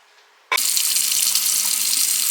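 A sink faucet bursts on and runs steadily for rinsing laser marking spray off a stainless steel tumbler, a loud, constant close rush of water with no talk.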